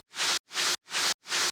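Noise-sample texture layer for a hard techno kick in Ableton Live: four bursts of bright, hissy static grit, each about a third of a second long with a swelling attack and abrupt cutoff, separated by short silences.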